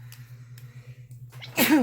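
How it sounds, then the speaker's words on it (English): A single sharp sneeze bursts out near the end, loud and close, after a quiet stretch with a steady low hum in the background. "Oh, I think I'm going to sneeze."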